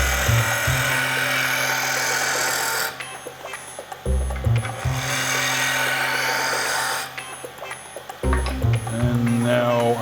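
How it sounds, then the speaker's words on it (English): A roughing gouge cutting on a wood lathe while turning a wooden spinning top: loud sustained whine and scraping in three long passes separated by brief pauses, with the motor hum continuing underneath. "One more cut with my roughing gouge."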